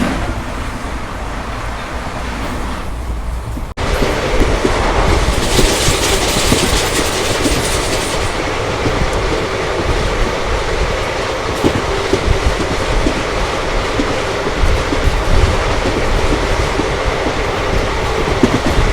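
A passenger train running from Vijayapura to Mangaluru, heard from inside as a loud, continuous rumble with rhythmic clatter of wheels on the tracks and a brief faint hiss early on.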